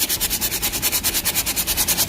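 Soft, rhythmic back-and-forth sanding strokes on the wood of a baroque altarpiece, smoothing over a crack, each pass a quick hissing rub repeating steadily at close range.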